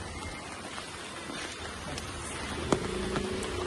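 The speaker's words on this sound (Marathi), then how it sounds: "पाऊस पडताय ना" Steady rain falls outdoors as a faint, even hiss of drops, with one brief sharp knock near the end.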